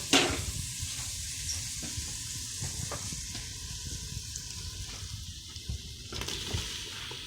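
Red potatoes sizzle and crackle steadily in a hot pan with garlic and onion, a close, continuous hiss broken by occasional stirring scrapes.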